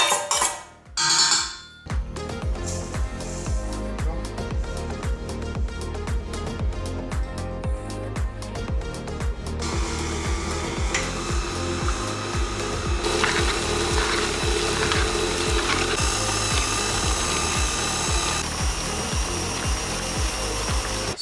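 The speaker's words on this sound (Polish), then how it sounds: "wrzuciłem to do blendera, mm, bo było za dużo grudki" A kitchen blender whirs loudly and steadily as it purées a no-bake pumpkin cheesecake filling of pumpkin and quark, with a grinding, rhythmically pulsing motor tone that runs for about twenty seconds and has no talk over it.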